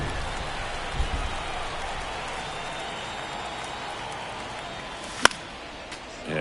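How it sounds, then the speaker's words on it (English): Steady rain hiss in a baseball stadium during an MLB The Show 24 game, a broad continuous wash with a sharp crack near the end and faint crowd and announcer murmur beneath. "This rain is not letting up."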